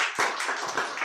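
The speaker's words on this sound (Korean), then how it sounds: "우리 박수로 격려하겠습니다." A congregation at a Sunday morning church service gives a short burst of clapping to encourage a young member, with a few claps standing out.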